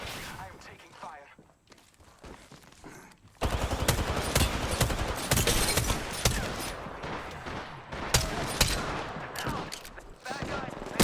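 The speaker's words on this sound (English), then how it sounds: "Taking fire. I am taking fire." Rapid automatic gunfire in the Apex Legends shooter game, quiet scattered shots at first, then loud, sustained bursts of weapon fire with sharp cracks and thuds while a player talks over it.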